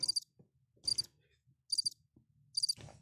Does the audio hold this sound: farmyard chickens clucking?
no